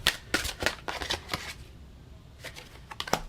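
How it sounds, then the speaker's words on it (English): A tarot card deck being shuffled in a quiet room, with a series of crisp riffling bursts in uneven succession, pausing briefly midway before a few more close, papery flutters. "I'm gonna go ahead and shuffle."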